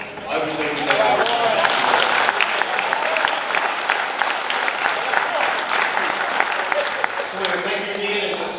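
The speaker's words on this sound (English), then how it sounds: "let's give everybody a round of applause for everything we know" Banquet crowd at a racing club awards dinner breaking into sustained loud applause, a dense steady wash of many hands clapping close by, with voices rising faintly underneath near the end.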